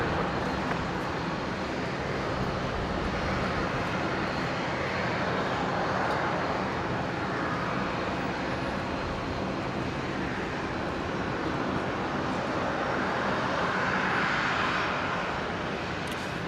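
An aircraft departs from runway 19 left at Brisbane International Airport, a sustained, fairly distant engine roar holding broadly steady for the whole stretch with no talk over it.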